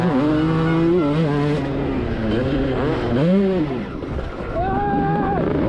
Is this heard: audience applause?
no